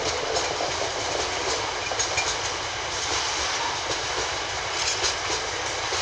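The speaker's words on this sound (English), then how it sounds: "Our last wagon's just exiting the sidings now." The last wagon of a freight train hauled by class 66 locomotive 66701 rolls out of the sidings at Peterborough. Continuous close rumble with faint clickety-clack of wheels is heard, and nobody speaks.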